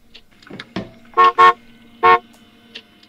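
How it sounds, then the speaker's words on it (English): In a Quest 2 virtual reality game, three loud car horn honks sound, two quick ones close together then a third after a pause, over a faint electronic hum with soft beeps. "Oh, the car's honking."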